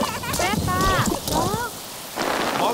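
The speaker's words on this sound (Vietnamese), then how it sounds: "Vào nhà đi, mưa lớn quá." Heavy cartoon rain hisses steadily behind cartoon character voices that chatter and call out over it.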